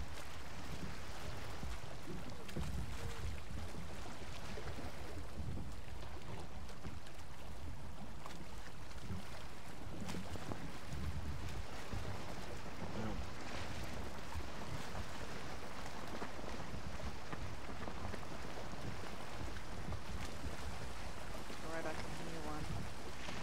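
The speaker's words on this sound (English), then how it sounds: "Our little old boat sounds like it's going to fall to pieces." An old wooden boat at sea in Valheim, creaking and groaning under constant rushing wind and waves, with people talking over it throughout.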